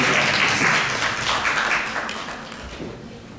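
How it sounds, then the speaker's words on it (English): Audience applause at a United Nations Day of Peace conference session, a broad wash of clapping that starts full and gradually thins and fades toward the end. "Let's give her a round of applause."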